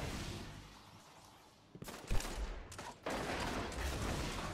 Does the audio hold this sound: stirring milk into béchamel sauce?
no